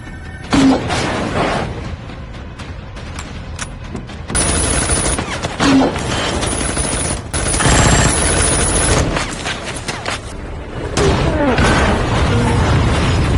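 Sniper gunfire in a film: sharp reports and booming impacts with bursts of cracking debris, separated by loud dramatic stretches, under a narrator's voice.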